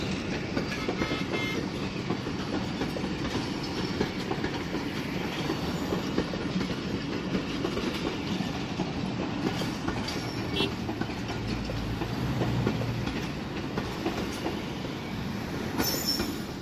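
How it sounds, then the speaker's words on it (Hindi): Hazara Express, train 12 Down, runs at night on a branch line near Sargodha, Pakistan, giving a continuous loud rolling rumble with rhythmic wheel clatter over the track joints and occasional high squeals, with no talking. "बहुत ही ज़बरदस्त ब्रांच लाइन के नाइस ट्रैक साउंड के साथ 12 डाउन हज़ारा एक्सप्रेस अपनी मंजिल की तरफ"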